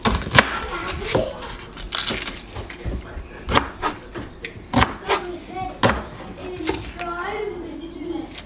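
Butternut squash, onions and other vegetables for soup are chopped on a board, sharp knife knocks arriving irregularly and close, heard under a voice speaking between the cuts.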